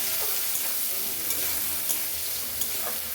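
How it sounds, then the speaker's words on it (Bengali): Fish frying in a pan with onion and garlic gives a loud, continuous close sizzle broken by light scraping stirs, with no one talking. "মাছটা তো ভাজা হয়ে যাবে তখন পেঁয়াজ রসুনটা দিয়ে দিলাম ভাজা হোক"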